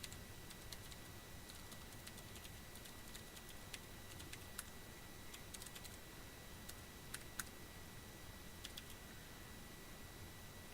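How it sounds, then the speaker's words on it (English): Faint typing on a computer keyboard in a quiet room, with scattered light clicks in small bursts and irregular pauses over a steady low hiss. "So, Precious, I need access to my keyboard here, you silly cat."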